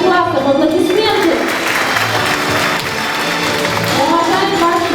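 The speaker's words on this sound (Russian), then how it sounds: "Аплодисменты" At a school last-bell ceremony, an audience applauds graduating ninth-grade students with a continuous, fairly loud wash of clapping, and a voice speaks over it near the start and end.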